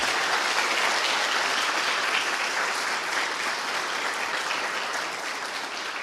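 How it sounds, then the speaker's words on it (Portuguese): A church congregation claps loudly and continuously, a dense wash of many hands that stays even throughout and eases off slightly near the end. "Vamos aplaudir o nosso Deus bem forte"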